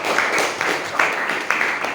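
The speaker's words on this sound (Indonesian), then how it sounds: "Kasih tepuk tangan untuk 3 kelompok tadi." Applause from a class of teachers after three groups present their work, a steady dense patter of hand claps filling the room at moderate volume with no talk over it.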